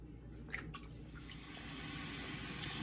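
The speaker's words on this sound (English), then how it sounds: "so we're going to clean up this chicken" Raw chicken rinsed under a running kitchen tap, water splashing steadily into a sink, brief spattering bursts early, then a continuous close hiss of flowing water, no talking.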